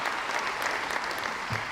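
A breakfast audience gives a steady round of applause, many hands clapping in a dense, even roar that holds at full strength with no voices over it.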